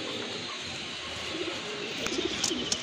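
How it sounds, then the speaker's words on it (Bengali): Domestic pigeons at a pigeon farm give soft, low cooing over a steady hum of farm background noise, with a few brief louder bird calls near the end. "আরেক জোড়া কবুতর আসছে এখানে,"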